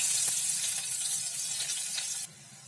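Chopped onion sizzles in hot oil with bay leaf and a little fennel seed, a steady close frying hiss that runs loud and even before suddenly dropping lower near the end.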